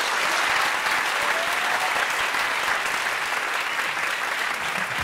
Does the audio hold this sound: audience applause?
yes